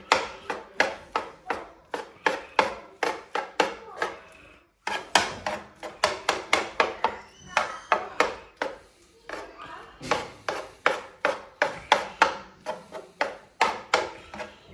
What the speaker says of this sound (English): Start chopping these up